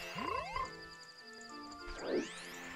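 A frog croaking in the video game Zelda: Majora's Mask, with a couple of short, bubbly croaks over a sustained tonal musical backdrop, close and fairly quiet, with no talking.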